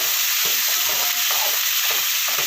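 Small country tomatoes sautéing in a pan for a village-style country chicken curry, a loud steady sizzle with stirring scrapes running throughout, no talk.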